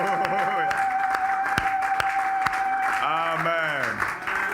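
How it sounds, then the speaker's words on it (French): A church congregation applauds during a celebration, steady clapping filling the space while a sustained organ or keyboard tone holds underneath and a voice sings or calls over it. "Allez, papa, on acclame bien la maman."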